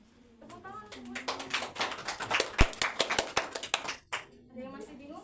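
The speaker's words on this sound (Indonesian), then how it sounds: "tepuk tangan." Scattered hand claps from a small group in a classroom, irregular and fairly close, with voices chattering over them before fading out.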